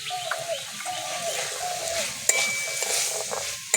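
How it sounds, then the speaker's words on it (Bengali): Spice mix with green peas frying in a pan while being stirred, a soft steady sizzle with light scraping and a few sharp clinks of a utensil against the pan. "মশলাটাকে ভালো করে ভেজে নেব।"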